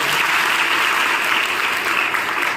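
At a women's college gathering in India, an audience claps steadily and evenly, a loud, continuous applause with no break.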